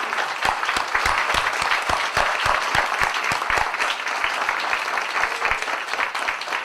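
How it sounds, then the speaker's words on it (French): Applause from a seated audience at an annual general assembly, steady, brisk clapping from many hands throughout, close and moderately loud with no talk. "je veux les applaudir et les remercier"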